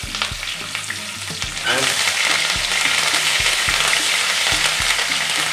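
Garlic paste, curry leaves and mustard seed frying in a pan: a soft sizzle that jumps to a loud, dense crackling hiss partway through, with a few utensil taps.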